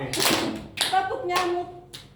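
Hand claps in the 'tepuk nyamuk' clapping game in a classroom, about four distinct claps spaced roughly half a second apart, with people talking between them.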